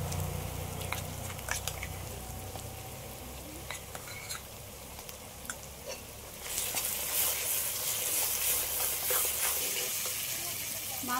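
Onion, garlic and ginger fry in a pan for chicken kosha, with soft stirring scrapes and light sizzle, until a prepared spice paste goes in and a much louder, bright sizzle erupts and holds steadily to the end.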